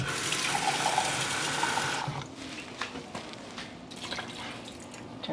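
Water pours steadily into a pot of Jamaican brown stew oxtail for about two seconds, then stops, leaving faint kitchen clatter and light drips.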